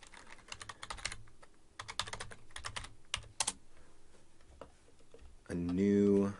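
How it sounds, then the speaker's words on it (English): Quick bursts of clicking from a computer keyboard, close and fairly quiet, come in short runs with pauses. A voice begins speaking at the end. "I just type on my keyboard"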